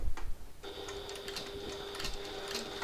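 A sewing machine runs steadily while stitching fabric for a reversible hobo bag, including back stitches at a corner, with a continuous close whirring hum and a rapid needle rhythm and no talk.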